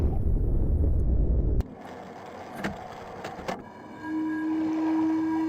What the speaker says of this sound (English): Wind chime.